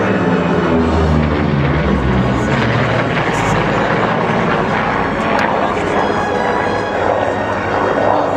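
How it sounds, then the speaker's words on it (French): A Vought F4U Corsair propeller fighter flies past at the La Ferté-Alais airshow with a loud, sustained engine roar that swells and fades, and a commentator's voice runs underneath. "Le Corsair, c'est donc un avion qui est devenu ultra célèbre à cause de la série télévisée des 4 brûlés"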